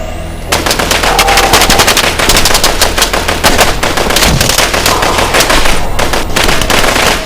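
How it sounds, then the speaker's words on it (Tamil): Soldiers fire on fleeing people with close, loud, rapid machine-gun bursts that rattle almost without pause. "ராணுவத்தினரின் தாக்குதலுக்கு பயந்து ஓடிய மக்கள் மீது பயங்கரமாக துப்பாக்கி பிரயோகம் நடத்தினர்."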